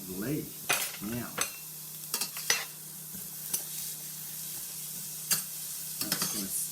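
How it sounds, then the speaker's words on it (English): Chopped onion frying in a little olive oil in a pan, a soft steady sizzle under intermittent clinks and scrapes of a utensil stirring against the pan. "that's going to start to sizzle"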